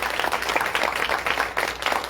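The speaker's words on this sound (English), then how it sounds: "So let's give ourselves a round of applause" An audience at a fraternity and sorority anniversary mixer gives itself a round of applause: steady, dense clapping throughout, moderately loud.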